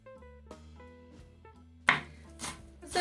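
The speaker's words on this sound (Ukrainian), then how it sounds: "Нарізаю нашу зелень." Several sharp knife chops on a board through fresh herbs such as dill and green onion, a few spaced taps followed by louder, quicker strikes near the end, with a steady hum underneath.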